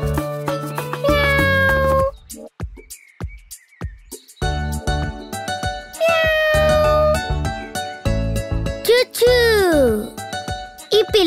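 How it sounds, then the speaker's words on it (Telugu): A cartoon kitten found in a park meows repeatedly, several bright, sliding mews set against a light musical score with chimes, and a narrator speaks between the cries. "ఒకరోజు పార్కులో ఆడుకుంటూ ఉండగా చూచు చాచాలకి ఒక పిల్లి పిల్ల దొరికింది."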